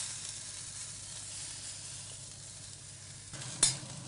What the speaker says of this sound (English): Now I like to cook venison medium.